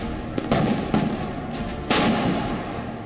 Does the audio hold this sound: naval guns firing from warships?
yes